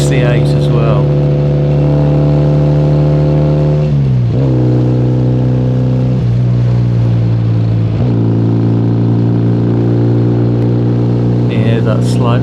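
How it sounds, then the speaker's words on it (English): Two Triumph Bonneville motorcycles, one a 1968 model, ride together with loud, overlapping engine drones, the pitch dropping and climbing through several gear changes, while someone talks over them. "there's a slight cadence between the two bikes. It's like a squadron of Spitfires."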